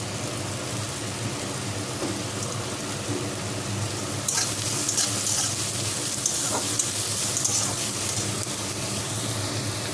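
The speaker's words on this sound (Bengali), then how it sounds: "এগুলো এবার একটুখানি ভাজবো" Chopped ginger, garlic and green chili fry in a pan alongside onion with a soft, constant crackle like light rain. The sizzle swells slightly midway, with no voices.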